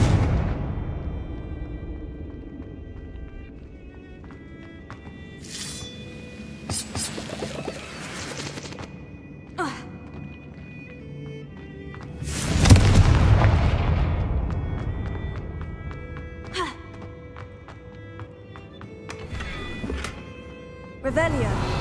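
Confringo blasting spells burst as booming explosions in the Hogwarts Legacy video game, several scattered thuds with one big blast near the middle, over game music and voices.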